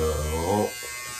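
Cordless electric beard trimmer running on setting 8 at home, a steady close buzz lasting about half a second before it drops away, with harmonic hum under it.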